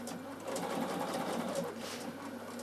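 A Bernina sewing machine stitches a straight line and then switches to zigzag, a soft, steady mechanical whirr heard up close with no talking.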